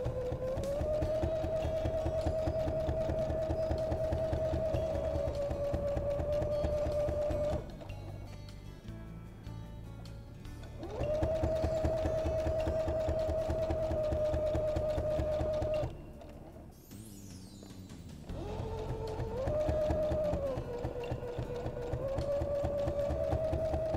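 A sewing machine stitches a baby changing pad in steady, fast humming runs, pausing twice briefly between long bursts of close, even whirring, with no voices.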